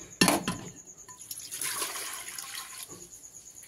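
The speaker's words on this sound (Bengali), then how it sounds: "এইবার আমি প্রেসার কুকারে জল দিয়ে দিচ্ছি পরিমাণ মতন" Water pours into a pressure cooker in a single burst of splashing and gurgling that tapers to a trickle, close and moderately loud with no talk.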